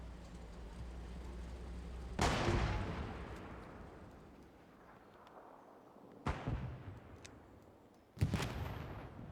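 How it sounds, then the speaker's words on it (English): Artillery strikes from the World War II shooter Hell Let Loose detonate among treetops, with three heavy booms, each long rumbling decay fading before the next blast, over a low background. "Artillery strikes are detonating early off the top of those trees."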